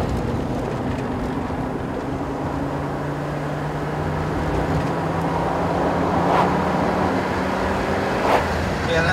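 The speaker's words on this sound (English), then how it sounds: "It sounds like a racing car." A Volvo 850 T5 engine hums steadily while driving, a moderate in-cabin drone with faint road noise and a slight rise in intensity toward the end.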